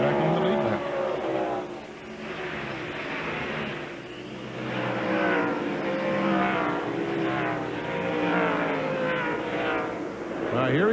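NASCAR stock cars racing at Sonoma road course, engine roar swelling and fading as cars pass, with a commentator talking over the noise.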